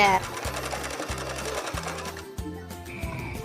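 A sewing machine runs in quick, even rattling stitch bursts along a short 2 cm seam on a hoodie, close and steady, with a few brief pauses and background music beneath.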